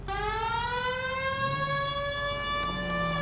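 A police car siren from the video game L.A. Noire wails loudly and continuously. Its harmonic tone rises gradually, with faint engine noise beneath it.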